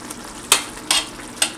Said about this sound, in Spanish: procedemos a agregar el arroz. Lo vamos agregando y lo vamos meneando.